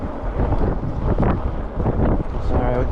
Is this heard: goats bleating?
no